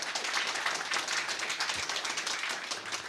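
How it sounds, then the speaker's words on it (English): Audience applause at a university lecture on just energy transition, steady dense clapping at moderate level with no talk over it. "请大家再次鼓掌，表达这个对他的这个演讲的感谢。"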